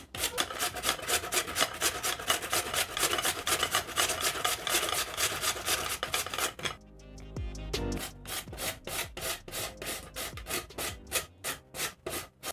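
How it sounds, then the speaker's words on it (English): Potatoes grated quickly on a hand grater while making hash browns, a steady rapid rasping of strokes, briefly interrupted midway before the fast scraping rhythm resumes, close and fairly loud with no talking. "You grate your potatoes really fast because they start oxidizing, so you have to be very fast."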